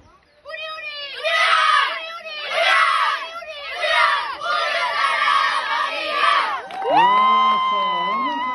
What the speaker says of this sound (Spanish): Equipazo Unión Sagrada Familia, vamos con el grito.